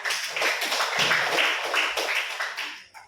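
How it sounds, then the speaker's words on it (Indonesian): A classroom of students claps together in a dense, steady burst of hand claps lasting a few seconds before tapering off, close and fairly loud. "Oke, tepuk tangan semua."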